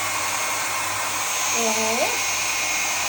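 A hair dryer blows on a person's hair with a steady broadband whoosh throughout, while a brief voiced exclamation rises over it near the middle.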